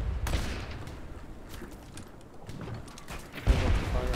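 Ship cannons firing in the pirate game Blazing Sails, a rumbling volley of booms with a heavier blast near the end, loud and close.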